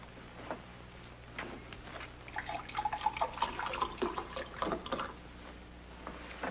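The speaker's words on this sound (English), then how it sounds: "Would you pour some water in here" Water trickles and gurgles as it is poured into a clean glass, a soft, faint burble in the middle seconds over a quiet room.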